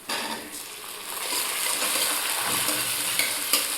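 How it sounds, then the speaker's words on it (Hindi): Tomatoes and onions fry in a pan with a steady, close sizzle that fills the whole stretch, broken by a couple of light clinks of a utensil near the end. "इधर फ्राई कर रही है अभी टमाटर प्याज का।"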